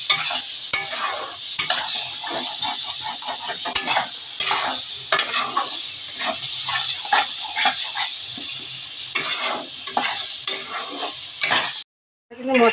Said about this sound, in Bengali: 2 মিনিট মশলাটা কষাবো